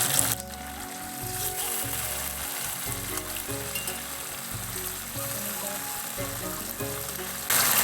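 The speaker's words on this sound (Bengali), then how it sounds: "এখন আমি পনিরগুলোকে ভেজে নিচ্ছি। পনিরগুলো একটু লাল লাল করে ভাজবো।" Paneer cubes fry in hot oil for a breakfast paneer curry, giving a steady, close sizzle for several seconds with a rhythmic low hum beneath and no talking.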